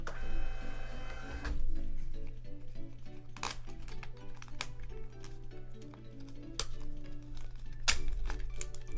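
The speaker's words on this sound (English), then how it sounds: "You get the little thermal printer and it's just boom," A small thermal printer runs off eBay shipping labels in a series of short mechanical bursts and clicks over a steady hum, close by and fairly quiet, with no one talking.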